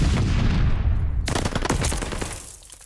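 Loud gunfire erupts at a hard point in Call of Duty: Vanguard, with heavy low rumbling booms giving way to a dense, rapid crackle of automatic shots that gradually tapers off.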